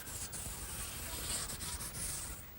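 Close, steady rubbing of 220 grit sandpaper on mahogany, back-and-forth strokes in a soft hissing rhythm, alone without any voices.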